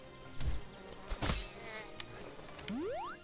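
A wasp buzzes in a jump-and-run RPG game, a soft insect drone mixed with other game effects and a rising tone near the end, fairly quiet.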